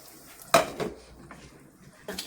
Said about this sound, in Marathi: आणि आता आपण झाकण ठेवू 10 मिनटं शिजू देऊ.